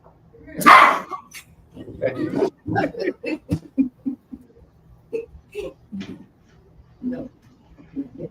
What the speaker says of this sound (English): that's Theo shouting at the little baby puppy here